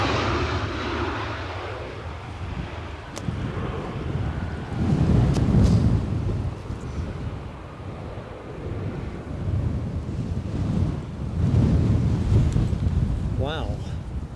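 Strong gusts of 40 mph or more buffet the microphone at Edinburgh Airport, rising and falling in heavy low rumbling surges around 5 and 12 seconds while a landing jet airliner roars underneath and a voice talks over parts of it.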